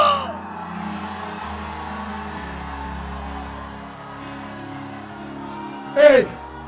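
A church congregation shouts loudly during a service, a sustained roar of many voices that swells into a brief, louder burst near the end.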